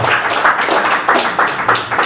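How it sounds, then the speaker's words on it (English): Audience applause in a small class setting: close, dense clapping from a modest group, continuous with slightly uneven surges over a couple of seconds. "Let's give a round of applause."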